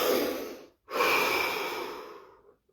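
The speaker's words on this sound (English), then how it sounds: "Take a deep breath." A slow, deep breath close to the microphone: a long airy inhale, a short pause, then a full exhale that fades gradually, calm and unhurried.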